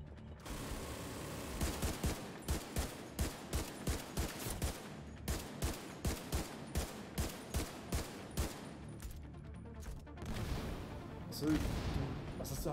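Rapid bursts of gunfire in The Division 2 strike containers, a steady rhythmic series of sharp, loud shots running through most of the stretch, with game ambience and a louder rumble near the end.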